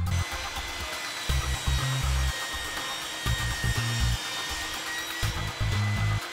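A power saw cuts a wooden base piece for a DIY drill press drum sanding station, the blade's loud drone repeatedly rising as the wood feeds through, in several bursts over a steady motor hum.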